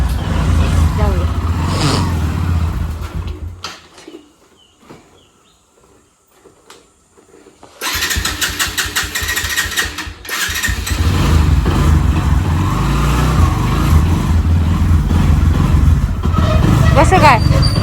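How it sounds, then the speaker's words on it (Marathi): A borrowed car's engine turns over and catches after a quiet pause, then revs and pulls away with a rising drone that keeps running to the end, loud and close, while people talk before and over it. "आपण मिलिंदाची गाडी घेऊन चाललो"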